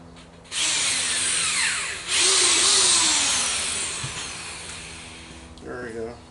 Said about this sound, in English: So I'll drill a hole like right there.